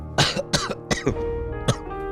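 A person coughs several times in quick, harsh bursts, close by, followed by a lighter final cough.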